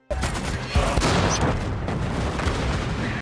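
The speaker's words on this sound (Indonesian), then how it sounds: "Tentara Jerman yang bersembunyi di bawah tanah muncul dan menembakkan senapan mesin serta peluru tank berkecepatan tinggi." Dense, loud battle gunfire from the war film Fury, with German machine guns and high-velocity tank cannon rounds blasting continuously in a heavy, overlapping barrage.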